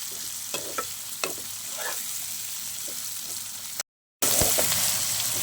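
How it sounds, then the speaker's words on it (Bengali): Onion and tomato fry in a pan with a steady sizzle, and a utensil scrapes and clatters as it stirs them every so often. A brief dropout breaks the sound before the frying carries on, louder. "পেঁয়াজ আর টমেটোটাকে আমি একটু ভালো করে ভেজে নেবো আগে"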